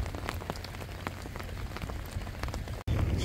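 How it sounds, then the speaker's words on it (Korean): Steady rain patters across the surface at a fishing harbour, a dense continuous hiss with scattered droplet ticks, loud and close throughout with a brief dropout near the end. "비가 오고 있는데요"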